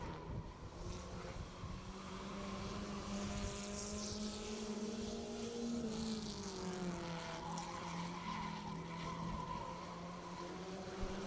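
A race car in qualifying pushes wide through a corner and up the hill, its engine droning loud and steady with rising and falling pitch as it powers through, with no talk.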